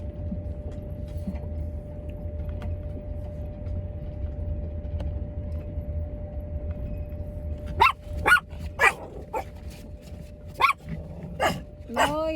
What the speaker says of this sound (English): Oh yeah, doggy.